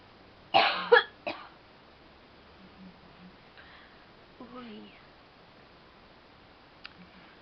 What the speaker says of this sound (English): Coughing makes me want to cough more.